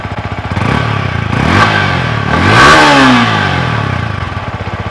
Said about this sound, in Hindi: this is all about the exhaust note of this bike